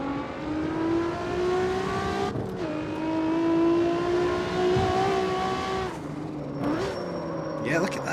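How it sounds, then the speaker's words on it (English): In the street-racing game CarX Street, a tuned car's engine whines and climbs through the revs, dropping sharply at each gear change with the gearbox whirring, several shifts in a row, while a voice talks over it. "Gearbox just sounds so good though."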